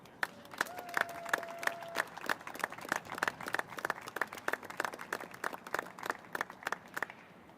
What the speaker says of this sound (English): everybody claps.